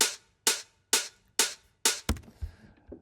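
Open hi-hat samples layered in an electronic drum track, five evenly spaced bright hissing hits with short decays, followed by a quicker cluster of lighter percussive ticks and a soft low thump.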